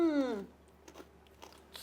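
A voice hums briefly, then faint, sparse crunches follow as someone chews crunchy granadilla seeds, a few soft, irregular bites close to the mouth.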